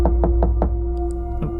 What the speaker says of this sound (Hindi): सच में दरवाजा ठक ठक हो रहा है।